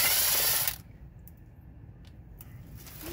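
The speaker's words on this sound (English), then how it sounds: "These little impacts are great for this kind of work." A small impact wrench zips out transmission oil pan bolts on a Workhorse P32 chassis with a 4L85E transmission, a loud burst of rattling hammering at the start that cuts off abruptly, leaving low workshop noise.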